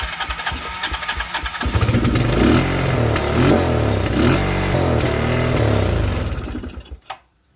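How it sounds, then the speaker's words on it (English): A 1987 Suzuki Quadrunner 250 ATV engine roars and revs hard on starting fluid with rough, clattering throbs for several seconds, then sputters out and cuts off near the end. "Revving up when you spray starting fluid."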